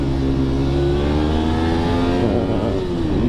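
A Honda VTR 250 motorcycle engine pulls hard while riding, its loud, close tone climbing steadily in pitch with a constant rush of wind, and no voices.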